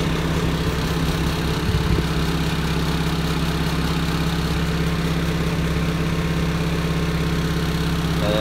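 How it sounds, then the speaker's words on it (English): A LeeBoy 8616B asphalt paver running in motion gives a steady, loud engine drone with low vibration throughout and no talk. "We need to make sure our machine is in motion."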